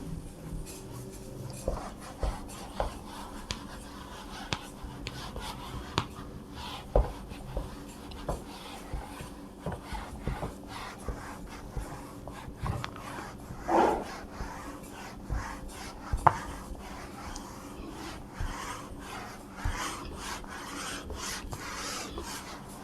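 Pen or marker writing out the next step of a maths solution on a board, with repeated rasping, scratchy strokes and small taps across a long stretch, close and fairly clear, with no talking.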